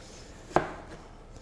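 A knife cuts once through apple pieces for an apple tart, giving a single sharp, close chop on a board in an otherwise quiet room.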